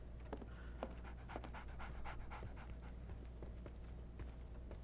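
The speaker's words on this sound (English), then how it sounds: "So, Barnes has a dog now." A dog pants rapidly and steadily at close range in the Sherlock Holmes The Awakened game, the quick breaths running throughout over a low ambient hum, with no talking.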